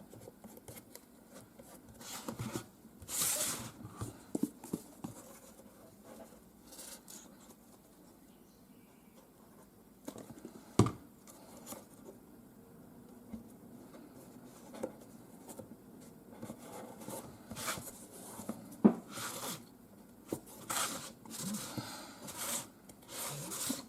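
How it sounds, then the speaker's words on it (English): Soft rubbing and scraping as a finger smooths paper down onto a cardboard storage box, quiet irregular strokes close to the ear with occasional louder swipes and no talking. "I'm just going to smoothing it down with my finger."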